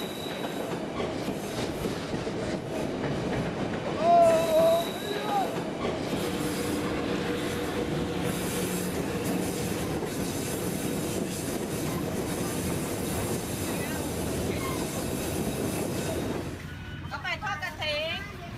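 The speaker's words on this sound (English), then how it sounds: "And the train is riding right there." A train rolls right through a market on the railroad, with a continuous rumble, clattering wheels and a squeal, close and loud. Voices chatter throughout, and a brief whistle-like tone sounds near the end.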